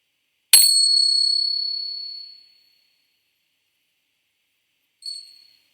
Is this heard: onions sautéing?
no